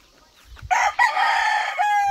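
A rooster crows loudly and close by, a single drawn-out cock-a-doodle-doo call with a rising start and a long trailing end.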